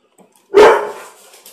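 A dog lets out a single loud, close bark that rings briefly into a fading tail, with near silence around it.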